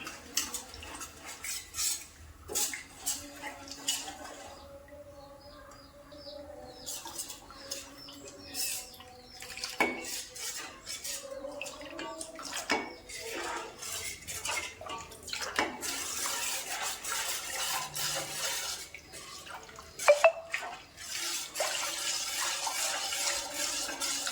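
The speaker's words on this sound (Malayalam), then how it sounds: "കൈവിടാതെ ഇത് നമ്മൾ ഇളക്കിക്കൊണ്ടേ ഇരിക്കണം. അത് കുറുകി വരണം." A ragi drink thickening on the stove is stirred steadily, with repeated clinks and scrapes of a utensil against the pan over a soft bubbling, watery background, moderately close and without speech.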